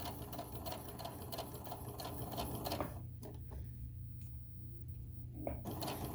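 A sewing machine stitches a tote bag seam in a fast, steady mechanical chatter, then halts about halfway, leaving a few faint clicks and handling noises.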